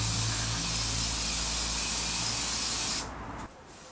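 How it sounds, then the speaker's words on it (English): Brake cleaner sprayed from an aerosol can into the seal groove of a 2JZ valve cover on a Lexus IS300, a loud, continuous close-up hiss lasting about three seconds before cutting off abruptly. "Here I'm just spraying in the groove where the new seal is going to sit."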